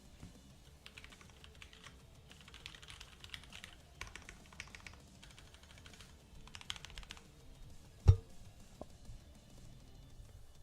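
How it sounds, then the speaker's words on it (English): Keys clatter on a computer keyboard in quick, uneven bursts of close typing with short pauses between runs, one louder knock standing out near the end, and no voices over it. "can you guys hear the typing?"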